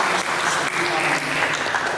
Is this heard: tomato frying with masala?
no